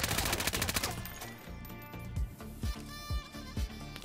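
Bursts of MP7A1 submachine gun fire in the Ironsight shooter game: rapid automatic volleys at the start, then a short run of separate loud shots at a steady rhythm.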